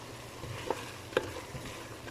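Chicken macaroni ingredients being stirred in a pan, with a low sizzle running throughout and two brief, distinct scraping clinks of the utensil against the pan.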